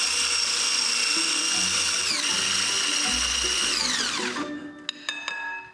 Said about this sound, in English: you need to whisk these together to get them nice and creamy